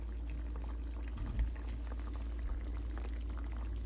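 Chicken wing gravy simmers in a pot with a faint, steady bubbling and a low background hum.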